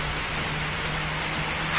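Rain falls steadily at a mangrove park, a dense even hiss with no breaks, close and moderately loud, with a faint low hum running beneath.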